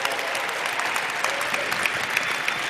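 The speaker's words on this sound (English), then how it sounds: "Give her a round of applause." Applause from an audience at a webinar event, a dense steady clapping that holds evenly through the short stretch with no voices.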